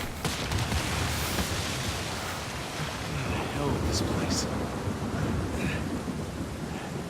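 Heavy rain with thunder in the video game Uncharted 4 forms a continuous loud hiss and rumble for several seconds, with faint scattered crackles and bursts that suggest distant strikes.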